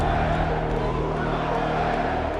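Hostile arena crowd at a UFC 237 event, a dense, steady roar of many voices filling the space without breaks, loud and continuous.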